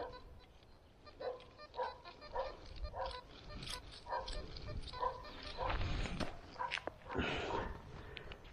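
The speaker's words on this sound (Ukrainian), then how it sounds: "Собака гавка." A dog barks repeatedly in short bursts some distance away, among outdoor rustling and faint background noise.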